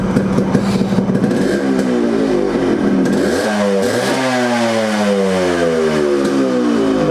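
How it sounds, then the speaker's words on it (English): Original restored Yamaha RX100 motorcycle with a 6-hole silencer, loud and close, its two-stroke exhaust burbling at idle before rising and falling through several sharp revs, with no talking over it. "exhaust note of an original RX100 with a 6-hole silencer"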